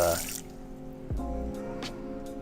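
Tap water runs briefly over a knife being rinsed in a kitchen sink, a short splashing burst at the start followed by quieter drips and clinks, with low background hum and tones.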